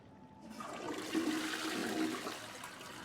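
A toilet flushes in the video game Bendy and the Ink Machine, a rushing, swirling water sound that builds after a brief quiet start and carries steadily for a few seconds, with no voices.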